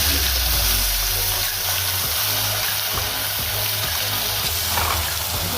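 Onion and garlic sizzling in hot oil with bay leaf and cumin while cooking chicken biryani, a loud, constant hiss with faint rhythmic stirring taps underneath, close up and without speech.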